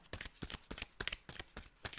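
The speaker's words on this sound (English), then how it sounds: "I've been shuffling for a while." Tarot cards are shuffled continuously in a rapid, rhythmic series of crisp riffling slaps, close and fairly clear, with no voices.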